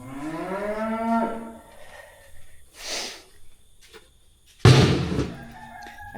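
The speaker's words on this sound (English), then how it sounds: "give the cows a little bit because they're whining" Cows mooing on a farm, a long, loud, wavering low call near the start followed by a second bellow later, with quieter rustling and faint farm sounds between.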